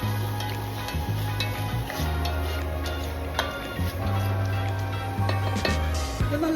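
Fish fries in a pan, a steady close sizzle with light crackling and a few soft ticks and stirring clinks over it.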